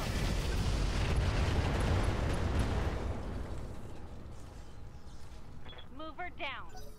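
Mech weapons unload in Roguetech, a dense, loud barrage of booming fire that rumbles continuously before thinning out, with a few faint chirping tones near the end.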